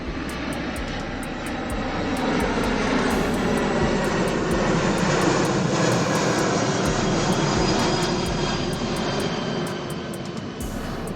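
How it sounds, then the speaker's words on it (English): A VC-25A four-engine jet with General Electric turbofans roars steadily and loudly, a broad continuous rush that swells slightly mid-clip and holds, with faint regular clicks over it and no talking. "There are 4 General Electric turbofan engines fitted in this Airbus."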